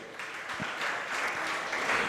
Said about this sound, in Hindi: अरे भैया ताली देवों के नाम नहीं बजाओ